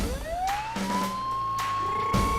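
A Mumbai police car siren rises into a loud, steady electronic wail as the vehicle arrives, with traffic rumble underneath and no talk.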